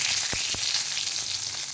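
Whole cumin seeds and bay leaves sizzle in hot oil in a kadai for an egg and potato curry, a steady close crackling hiss with two sharp pops near the start and no voices.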